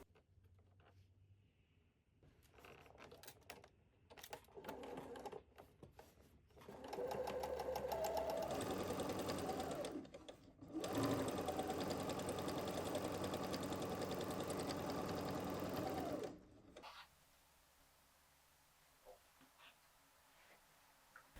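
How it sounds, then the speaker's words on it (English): Sewing machine stitching the open side seam of a fitted skirt together with its facing, running in two long steady bursts of loud whirring, preceded by shorter start-stop stitches and followed by quiet. "sewing together with the facing and everything unfolded"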